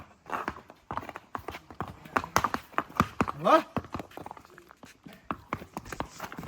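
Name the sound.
horse hooves clip-clopping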